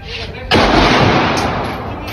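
A gunshot at the Cu Chi Tunnels shooting range in Saigon: one loud, sharp blast that cuts in abruptly and then rolls on as a long, reverberant roar. No one speaks.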